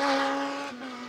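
A rally car engine revs hard up a hill, a loud sustained high-pitched drone with a brief dip mid-run as it shifts, then pulls on again.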